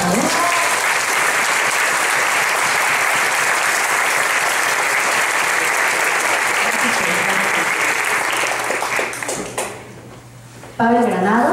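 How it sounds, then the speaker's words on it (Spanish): A crowd at a book presentation applauds loudly and steadily for about nine seconds, then the clapping fades and a voice begins speaking. "Vamos a darle un aplauso, por favor."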